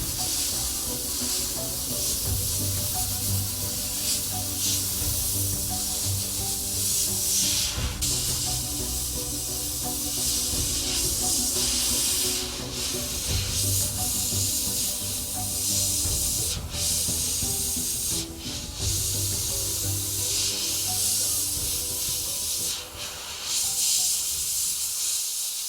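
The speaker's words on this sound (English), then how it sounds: "Angling that airbrush to get into some of these real tight areas" An airbrush sprays paint onto a Stormtrooper miniature with a continuous close hiss, broken now and then by brief bursts and short pauses as the nozzle angles into tight spots.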